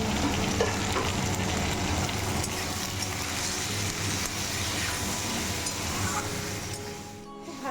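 Hilsa fish fries in hot oil with turmeric and salt, giving a loud, continuous close sizzle that holds evenly and eases slightly just before the end.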